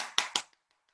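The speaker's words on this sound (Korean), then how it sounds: "큰 박수로." A few brief claps ring out to welcome a lecturer at a diet lecture, two or three close, sharp bursts that quickly fade into silence.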